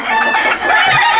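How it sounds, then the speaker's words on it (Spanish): A rooster named Raptor crows loudly and close by in one sustained, strained call filling the whole moment, with no other sounds around it. "el mejor gallo del mundo"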